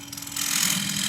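A 3/4 inch square-end scraper cuts into spinning oak on a wood lathe while turning a treasure box, giving a steady, close, broadband scraping hiss with a faint tonal hum beneath, growing louder partway through and running without pause.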